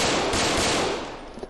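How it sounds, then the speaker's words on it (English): Gunshots are fired at a police station in a dense, loud burst of rapid cracks that blur together, then ease off slightly toward the end. "Shots fired at the police station!"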